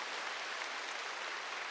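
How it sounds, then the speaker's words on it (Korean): Soft, faint applause from a church congregation, a brief steady patter of clapping heard alone. "이 정도면 우리 동네에서는 박수도 쳐주고 그래야 되는데."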